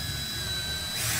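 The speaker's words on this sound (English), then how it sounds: "Very carefully we'll drill our hole." Power drill boring a hole through the firewall of a Four Star 40 model airplane fuselage, a steady high whine that holds evenly and close for about a second and rises slightly at the end.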